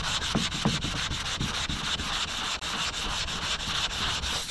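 Block sanding removes guide coat with 180-grit sandpaper on the body of a 1979 Chevy Malibu, a close, rhythmic scrubbing of quick, even strokes with no talking.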